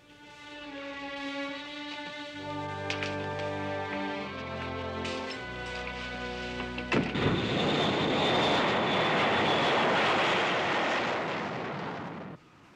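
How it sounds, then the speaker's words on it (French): A White House jet airplane's engines at an airport spool up with a rising, layered whine that suddenly bursts into a loud, sustained roaring rush that fades out at the end. "Il y a un jet qui nous attend à l'aéroport. Un avion de la Maison-Blanche."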